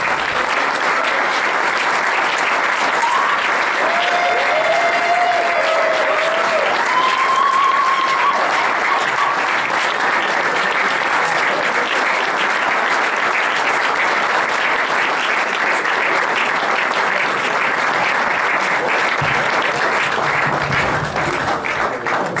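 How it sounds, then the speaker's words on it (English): A festival audience at a live music performance keeps up loud, sustained applause for over twenty seconds, with a few whistles rising above the dense clapping. "Another round of applause, please."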